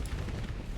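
An explosion in the space combat game Starsector: a dense, rumbling boom with heavy low-end noise, loud and close, lasting under a second with no speech.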